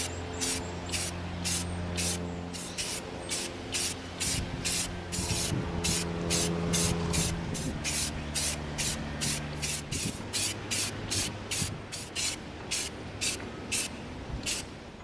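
Rapid repeated bursts of matte gray aerosol spray paint coating an EVA foam prop pistol, short hissing pulses in a steady rhythm, close and loud, with a low hum underneath.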